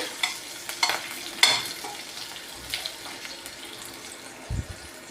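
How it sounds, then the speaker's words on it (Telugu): Dried red chillies fry in a pan for a brinjal chutney, a soft sizzle under scattered stirring clicks and scrapes at close range. "ఎండుమిర్చి ఇవి కొంచెం వేగాలి"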